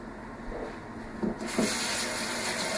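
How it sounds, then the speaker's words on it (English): Tap water runs into a sink while hands are washed, starting as a soft trickle with faint rubbing and then swelling into a steadier, louder hiss of flowing water. "I just had to wash my hands real quick"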